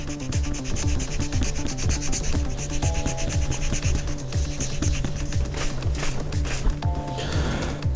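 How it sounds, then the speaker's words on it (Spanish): Steady back-and-forth rubbing of sandpaper on a bicycle inner tube, close and continuous, with a rhythmic scraping texture throughout. "Lo lijamos."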